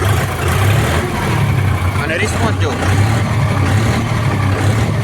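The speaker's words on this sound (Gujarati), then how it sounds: "એકદમ આરામથી ટ્રેક્ટર સ્ટાર્ટ થાય." A New Holland four-wheel-drive tractor engine idles with a low, steady diesel rumble close by, while someone talks over it throughout.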